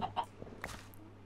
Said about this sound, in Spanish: acabo de escuchar una gallina.